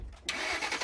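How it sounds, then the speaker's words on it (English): A 2008 Ford Mustang engine cranks and catches after a quiet moment, then settles into a loud, steady close-up idle with a broad rumbling roar and no talking. "This engine hasn't roared for a while."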